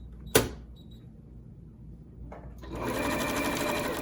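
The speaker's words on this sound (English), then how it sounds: "I'm going to start sewing here with a 1/2-inch seam allowance." A domestic sewing machine begins stitching a tote bag seam after a sharp click and a brief whir, then runs in a steady, close, mechanical hum through the final second and a half with no speech.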